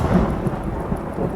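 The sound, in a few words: thunder clap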